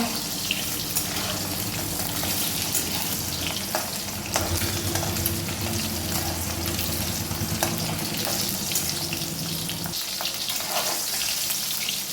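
Duck eggs frying in oil in a pan until browned, a loud, dense, steady sizzle close up, with light stirring scrapes throughout.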